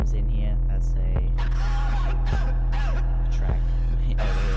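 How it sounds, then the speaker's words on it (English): Cough sounds placed in a self-made music track over easy drums and a deep, sustained 808 bass, appearing as several short bursts layered into the loud mix. "Coughing comes in here."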